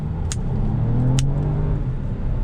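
A 2019 Toyota Camry V6 with 301 horsepower pulls away hard from a standstill in full automatic mode, a steady low engine rumble rising in pitch as it revs, with brief tyre or traction noise near the start.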